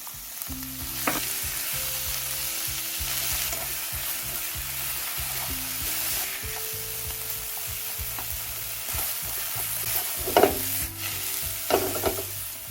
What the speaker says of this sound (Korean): 당근색이 변하기 시작하면 중불로 낮춰서 버섯을 볶아주세요.